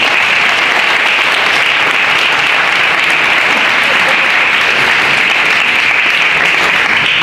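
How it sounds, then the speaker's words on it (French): Audience applause fills a conference on connected health and data security, a dense, steady clatter of many hands that holds at full loudness without a break. "et donc Monsieur Février, je vais vous demander d'applaudir"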